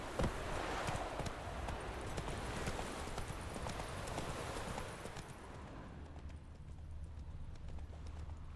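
Roach, the horse in The Witcher 3, gallops with rapid, steady hoofbeats close by, the clip-clop fading and quieting toward the end with no voices.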